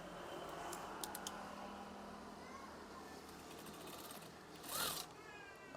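A sewing machine stitches curtain swag fabric slowly, giving a faint, steady mechanical whir that runs through the whole stretch with a few light clicks. A voice speaks quietly over it.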